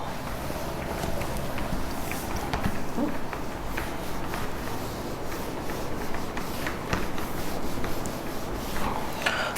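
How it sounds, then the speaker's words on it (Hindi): Duster rubbing out writing on a classroom board, a steady scrubbing and scraping that continues throughout at moderate loudness. "अभी जगह नहीं है तो रब कर रहा हूं"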